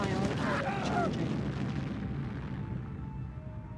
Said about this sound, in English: Select target. Ion cannon charging.